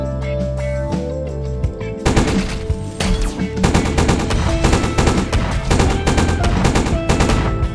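Gunfire in the game Ratchet & Clank, chosen as the pistol, rattles out loud and rapid, with scattered shots at first, then dense bursts of repeated blasts from about two seconds on over a musical game backdrop.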